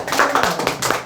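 A short burst of clapping in a small insurance sales office gathering, a handful of people applauding with uneven, fairly close hand claps lasting about a second.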